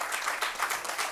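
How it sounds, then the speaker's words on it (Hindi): Audience clapping loudly and continuously at a poets' gathering, a dense wash of many hands applauding at once. "मैं प्रवीण भाई के लिए भी एक बार चाहता हूं कि जोरदार आप सब तालियां बजाएं।"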